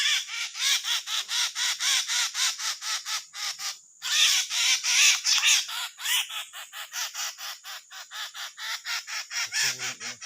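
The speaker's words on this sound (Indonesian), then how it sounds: "suara burung ini bos sangat kencang sekali bos" A loud, harsh bird calls over and over in rapid rhythmic bursts, close and piercing, with only a brief pause, and no talking.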